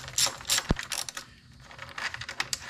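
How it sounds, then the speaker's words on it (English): A 10 mm socket on a ratchet loosens the acorn nuts holding the plastic engine cover on a 2006 Toyota Tundra 4.0 V6. Close, quick runs of ratchet clicking come in uneven bursts, with one sharp louder click partway through and no voices. "I'm going to use a 10 millimeter socket."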